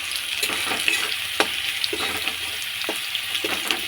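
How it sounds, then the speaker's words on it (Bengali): Masala with chili powder and turmeric powder sizzles steadily in a hot pan, with soft scraping stirs and occasional sharp spatters close by and no talking. "দিয়ে এবার এটাকে কষানো হবে মশলাটা"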